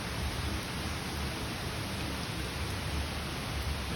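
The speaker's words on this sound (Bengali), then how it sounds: "মুষলধারে বৃষ্টি হচ্ছে, দূর দূর অব্দি কিচ্ছু দেখাই যাচ্ছে না।" Heavy rain pours down steadily during a Bengaluru downpour, a dense, even roar of water with no pauses and no voices.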